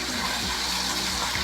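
Water runs steadily and close by as a person washes her hair, a continuous broadband rush with no talk.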